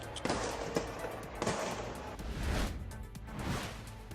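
Several sharp bangs of a commemorative fireworks salute burst at intervals, each followed by a rumbling boom, heard from a moderate distance with crackling in between.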